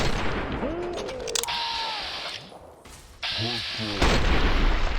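Gunshots in the modded video game Fallout New Vegas, a few heavy booming reports separated by mechanical clicks and reload sounds, loud and close, with a voice talking between them.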